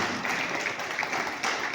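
An audience breaks into applause, a dense wash of clapping with slight swells that carries on steadily for a couple of seconds.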